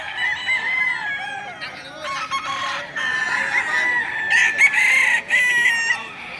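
A Boston Roundhead gamecock crows loudly and close by at a livestock auction in Padre Garcia, Batangas, several drawn-out calls in succession with some clucking between them.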